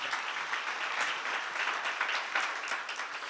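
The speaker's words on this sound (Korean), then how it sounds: "박수로 맞아주시면 하나님의 계획 안에 있는 겁니다" An audience at a Korean church seminar applauds in a continuous wash of clapping, moderately loud and even, with no talk over it.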